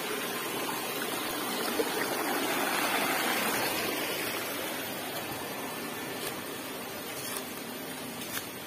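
A clear forest river in Indonesia flows with a steady broadband rush and gurgle, constant and fairly close, with no voices.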